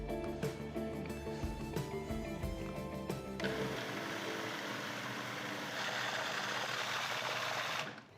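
A blender blitzes basil, garlic and olive oil into pesto, a close motor whirr that shifts into a steady, rougher grinding buzz as the mix purees, then stops near the end, with no talking.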